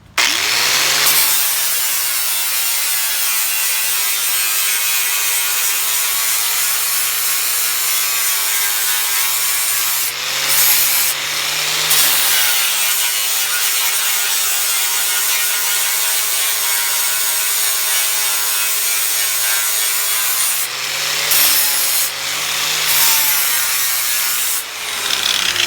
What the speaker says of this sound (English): I grind the rivet flat.